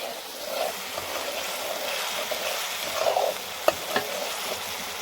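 Chopped onions and tomatoes cooking in a pan on a home stove, a soft, even sizzle with occasional stirring and a couple of sharp utensil clicks near the end, close up and without talk.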